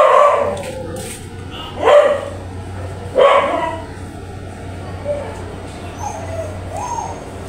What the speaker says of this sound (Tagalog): ang aso ay kumahol ng pagkalakas-lakas